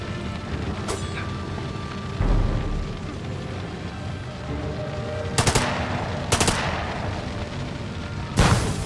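Gunfire in the video game The Lamplighters League: a few sharp, loud shots punctuate a continuous rumbling battle ambience, with isolated bursts spaced several seconds apart.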